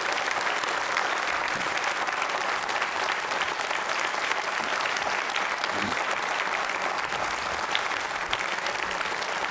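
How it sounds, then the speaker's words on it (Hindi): An audience claps steadily at a Jain Social Group quiz show, a dense, sustained round of applause filling the room with a continuous wash of hand claps. "उनके लिए तालियां जोरों से बजाइए आप"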